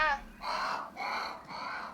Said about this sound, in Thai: มีอีกา